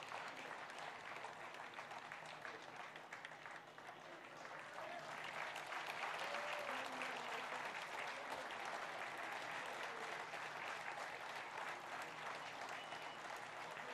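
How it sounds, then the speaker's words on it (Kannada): An audience applauds D K Shivakumar as he takes charge as KPCC president at a swearing-in ceremony, with steady, sustained clapping from a large crowd that swells slightly midway and carries on to the end. "ಎಲ್ಲರೂ ಕೂಡ ಅವರನ್ನು ಚಪ್ಪಾಳೆ ತಟ್ಟೋದ್ರ ಮುಖಾಂತರ ಅಭಿನಂದಿಸಬೇಕು"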